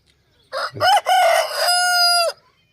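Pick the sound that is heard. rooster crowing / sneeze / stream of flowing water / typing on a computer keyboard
rooster crowing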